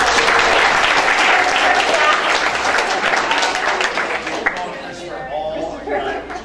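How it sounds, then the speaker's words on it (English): An audience at an evening gathering applauds loudly and steadily, the clapping thinning and fading toward the end, with some voices mixed in. "So a round of applause for everyone who took the"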